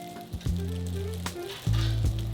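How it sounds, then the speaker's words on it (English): Baked unagi eel pieces tossed into fried rice in a hot wok, with a close sizzle that swells in two loud bursts as the pieces hit the pan, plus brief scraping between them. "Then, add in the baked unagi pieces."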